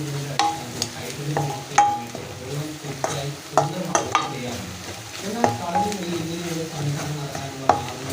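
Crab gravy masala with black pepper sautéing in a pan, a steady sizzle broken by repeated scraping stirs and light clinks of a spatula against the pan, close and lively.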